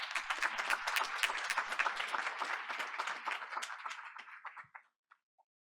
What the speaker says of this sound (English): Let's welcome Sham once again to the podium with a warm round of applause.